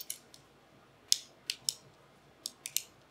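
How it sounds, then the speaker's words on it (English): Crisp tactile clicks from a dial on a Wilcox RAID-XE mount, a few sharp close detents heard singly and in quick pairs, clear against a quiet background. "Nice tactile clicks."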